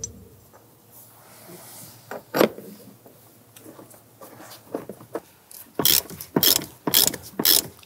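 Ratchet wrench tightening Torx bolts on a seatbelt anchor in a 1999-2004 Jeep Grand Cherokee, with scattered clicks at first, then a loud, close burst of rapid clicking in quick strokes toward the end.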